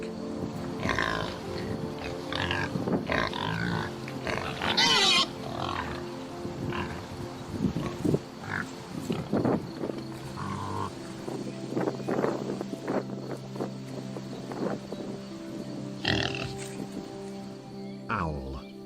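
A pig grunts and squeals in a rough, uneven series of calls, some loud and close, others quieter, with breathy pauses in between.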